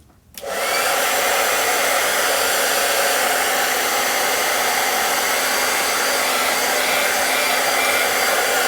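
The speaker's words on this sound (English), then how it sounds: "I am going to hit this with the hair dryer one more time" A hair dryer switches on and blows with a loud, steady whooshing roar that continues unbroken to the end.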